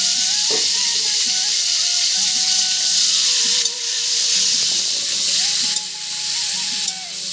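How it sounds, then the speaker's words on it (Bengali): Pointed gourd (potol) fries in oil in a covered pan, making a steady, loud sizzle and hiss throughout, with faint tonal background sounds and no talking. "পটলগুলোকে তেলের মধ্যে দিয়ে দিয়েছি, এবার ঢাকা দিয়ে দিচ্ছি।"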